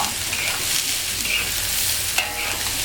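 Ren nim paste, made from the pulp of the ren nim fruit, is stir-fried and mixed in a pan, giving a loud, continuous hiss and sizzle with occasional scraping stirs, close up.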